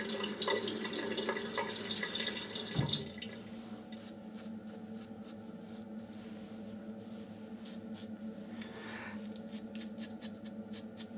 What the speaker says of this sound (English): I'm actually going to wet the face a little bit and work this around